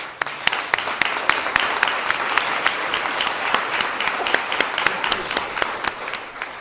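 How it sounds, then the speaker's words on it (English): An audience at a school board candidate forum applauds the candidates. Sharp, rhythmic clapping stands out against a steady bed of applause and stays fairly loud for several seconds. "Let's give them a round of applause"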